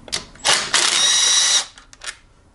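A power drill whirs in short bursts, with one longer steady run, while backing out 8 mm heat shield bolts on a GY6-engined Ruckus scooter. The sound is loud and close, and no one speaks.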